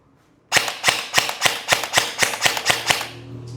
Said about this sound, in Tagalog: So, try natin, guys. So, semi muna.